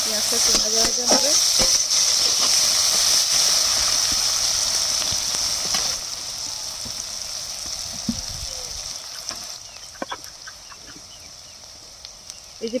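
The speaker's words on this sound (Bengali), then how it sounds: "পেঁয়াজটা একটু ভাজা ভাজা হবে।" Chopped onions sizzle in hot oil with cumin seeds in a pan already used for frying fish, a steady hiss that holds strong for several seconds, then eases into softer crackle with a few stirring knocks.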